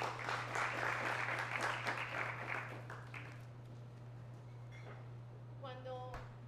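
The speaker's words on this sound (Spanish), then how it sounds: "Un aplauso." An audience at a talk on zero-waste living at home breaks into lively applause for about three seconds, which then fades into a quieter room with a voice and a few scattered sounds.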